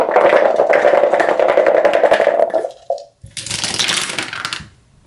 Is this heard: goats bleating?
no